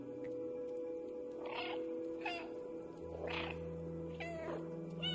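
Cat meows in the video game Stray, four plaintive calls spread over a few seconds against a steady game ambience and background music, moderately close, with no talk.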